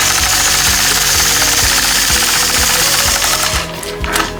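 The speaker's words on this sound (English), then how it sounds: "When I engage my machine, I'm going to be using gentle pressure both on my machine as well as on the ruler." A quilting machine stitching a curved crosshatch line along a ruler across a quilt block, a loud, fast, regular mechanical clatter that runs steadily and eases off near the end.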